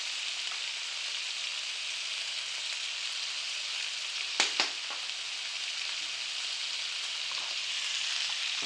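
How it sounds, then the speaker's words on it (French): Pork kidneys sizzle steadily in a pan, a constant broadband frying hiss throughout with a couple of brief clinks near the middle and no voices. "Regardez ça comme ça mijote bien."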